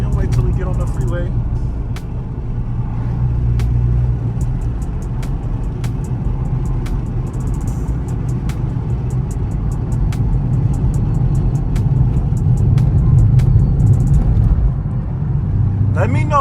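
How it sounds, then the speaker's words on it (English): Dodge Charger R/T fitted with a new mid muffler and resonator, driving on a highway, giving a steady, loud engine drone and road rumble that swells and eases slightly throughout, heard from inside the car. "The car sounds way better."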